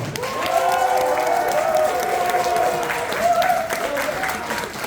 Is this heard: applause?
yes